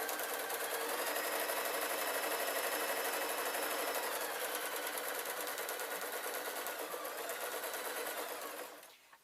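A sewing machine runs in one steady, continuous stitching burst while sewing cushion fabric for a custom cushion inset, fairly close and loud, then stops abruptly at the end.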